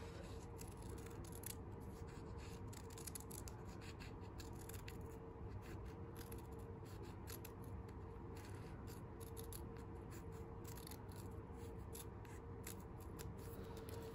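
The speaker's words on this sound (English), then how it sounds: "So we're going to cut this in half." Scissors snip steadily through planner paper, cutting a sheet in half with a rapid, continuous series of close, crisp cutting sounds and no talking.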